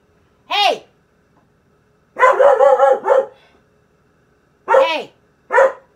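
A dog barks in sharp, loud bursts nearby: one single bark, then a rapid cluster of several, then two more spaced barks, with quiet gaps between.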